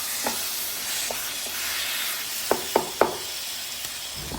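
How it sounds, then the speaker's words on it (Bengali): Spoon stirring spices through olive pickle in a pan, soft scraping with several sharper clacks against the metal near the end, light sizzle underneath. "এগুলো আমরা আচারের সাথে ভালোভাবে মিশিয়ে নেব"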